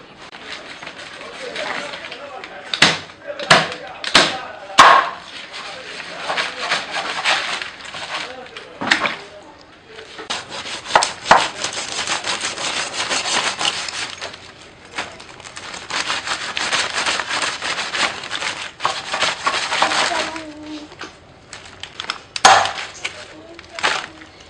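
Cooked taro is pounded by hand, giving repeated dull thuds in an irregular rhythm, close and fairly loud, with a voice talking over parts of it.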